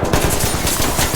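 Rapid automatic gunfire fired through a window in the tactical shooter game Ready or Not, a quick burst of about a dozen close, loud shots in tight rhythm.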